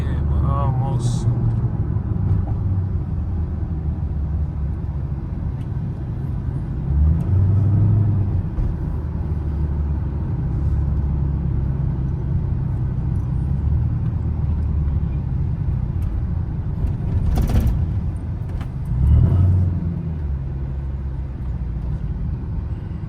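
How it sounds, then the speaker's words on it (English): Steady low rumble of slow car traffic on an expressway in a traffic jam, heard from inside a vehicle with engines droning continuously and a passing vehicle now and then, while people talk over it. "Traffic jam, traffic jam. Yeah, a little traffic."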